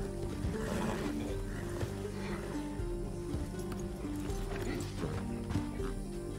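Horses in Red Dead Redemption 2 clop their hooves and snort, with an occasional whinny, during an outlaw getaway after a shootout, the hoofbeats steady against a busy game soundscape with muffled voices underneath.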